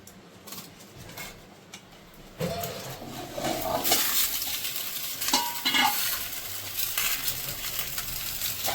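Paturi-style fish in spiced paste sizzles and crackles in hot oil as it is turned in the pan, a soft hiss swelling into louder bursts of spattering, close by with no talk.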